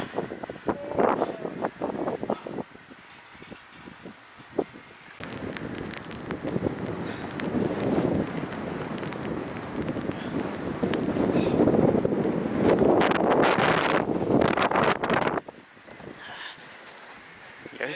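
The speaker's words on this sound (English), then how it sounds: "It's a bit bloody windy." Strong wind buffets the microphone in heavy, roaring gusts that swell and ease, with brief muffled voices near the start, at a lookout above Kharkhorin, Mongolia.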